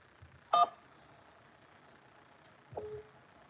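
A telephone keypad is pressed to accept an incoming call on a phone chatline, giving one short, clear tone, then a second, fainter tone about two seconds later over a quiet line.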